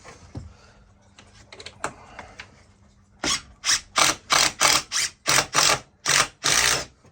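A Makita XGT cordless impact driver drives a screw in a series of about nine sharp, rapid hammering bursts. A few soft handling clicks come before it starts.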